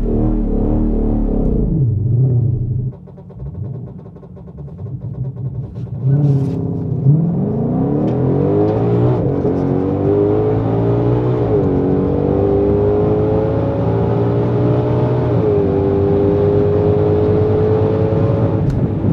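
A 2020 Shelby GT500 revs hard during a drag-strip burnout, a loud deep engine roar that dips and then climbs in rising pitch sweeps before holding a high sustained howl.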